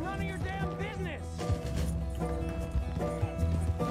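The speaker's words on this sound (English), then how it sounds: "Why is my horse so slow?" Horse hooves clip-clopping in an open-world western video game, a steady rhythmic trot set under music and other game sound, moderately loud and continuous.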